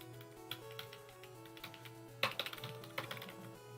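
Keys clatter on a computer keyboard in quick, light bursts with a louder flurry near the end, fairly quiet over a steady musical hum.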